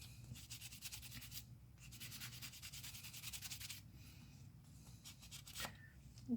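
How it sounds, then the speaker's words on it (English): Wet sanding by hand with paper towels on a pipe produces quiet, rhythmic scrubbing strokes in repeated back-and-forth bursts, close but faint, with no talking over them. "lots of wet sanding."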